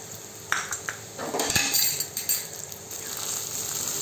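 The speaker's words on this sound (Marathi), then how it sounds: "आणि असं चांगलं परतून घ्यायचं." Chili paste with coriander and turmeric being sautéed in a pan, heard as close utensil clinks and scrapes against the metal with a faint sizzle, short and moderately loud.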